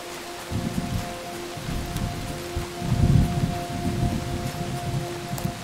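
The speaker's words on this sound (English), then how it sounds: "Not sure I've heard thunder in this game yet." Steady rain with low rolling thunder in the Among Trees video game, a continuous wash of rainfall with rumbles swelling and fading, loudest near the middle, with no voices.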